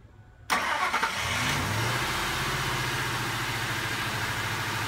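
A car engine cranks and fires up at once on a NOCO GB150 jump starter from a deeply drained battery, then settles into a steady, close rumbling idle.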